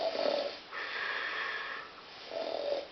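A woman snores in slow, audible cycles: a raspy inhale followed by a longer nasal exhale, then another rough breath begins. The sound is moderately close and nobody speaks over it.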